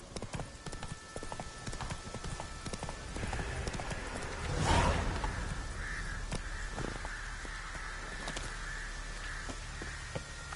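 The horse Roach from The Witcher 3 gallops with quick, regular hoofbeats and a swell of movement partway through, while crows caw faintly and no one speaks.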